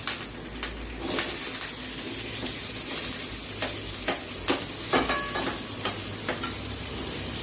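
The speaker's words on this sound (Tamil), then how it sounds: "கொஞ்சம் வெங்காயம் வதக்கிட்டு" Onions sautéing for a Chettinad-style egg gravy, with a steady oily sizzle and occasional scraping stirs and clinks of a spoon against the pan, close and continuous without any talk.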